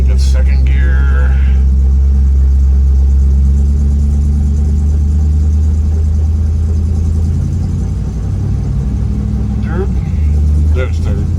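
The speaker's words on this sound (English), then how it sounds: "we're going to put it in drive. We got second gear." A 1961 Dodge D300 truck engine pulls steadily in second gear, a deep continuous rumble close by with faint higher clatter, and a voice speaks briefly near the start and end.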